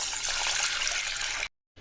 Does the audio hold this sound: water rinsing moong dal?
yes